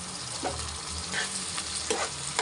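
Chopped tomatoes and curry leaves fry in a pan for a prawn and egg curry, making a low steady sizzle marked by a few brief scrapes of stirring, faint and up close.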